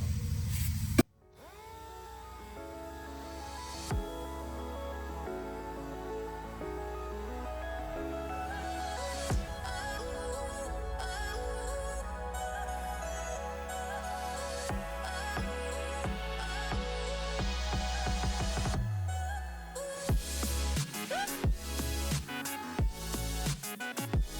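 A dual action sander with 80-grit paper whirs steadily against body filler on a Nissan S13 for most of the stretch, its pitch wavering, then stops with a few clattering knocks.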